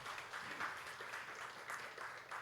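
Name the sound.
congregation applause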